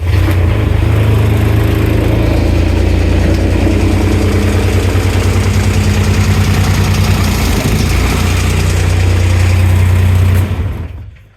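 A Kubota X900 RTV utility vehicle engine runs at a loud, steady diesel idle with a rhythmic low throb, continuing unbroken for several seconds before cutting off at the end.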